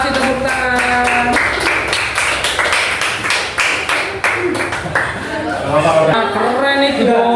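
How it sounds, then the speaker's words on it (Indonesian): A small group claps in a fairly regular rhythm at a school group presentation, the sharp individual claps standing out over overlapping talking and cheering voices. "kasih tepuk tangan."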